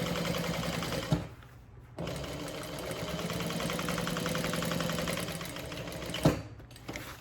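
A sewing machine top stitches a seam on a handbag, running in steady rapid mechanical chatter, pausing briefly twice with small clicks before resuming, close and clear.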